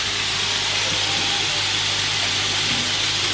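Lamb sizzling in a hot pan, a loud, steady hiss of searing meat that holds without pause from start to finish.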